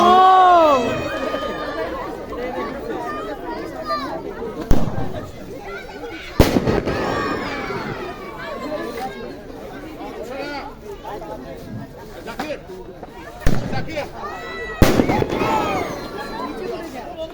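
Fireworks from the Faridpur Foundation picnic of 2023 burst high in the distance, several sharp booms at irregular intervals standing out over steady crowd chatter and excited talk.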